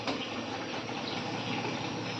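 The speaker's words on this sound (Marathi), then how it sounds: "भाज मेथीची भाजीसुद्धा दोन तीन पाण्याने धुवून घ्यायची" Fenugreek leaves are washed in water with a continuous, close wash of running and splashing water. The sound is steady and unbroken for a couple of seconds, with no talking.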